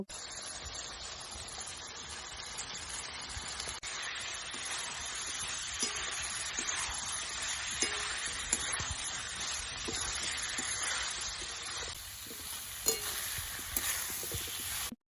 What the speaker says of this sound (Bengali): এবার আমি ব্রকলি গুলো দিয়ে কষতে নিব